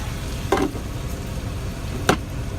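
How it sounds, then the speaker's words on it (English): Bacon frying in a pan, with a steady close sizzle and two sharp clanks or scrapes of a utensil against the pan. "So the bacon is getting going."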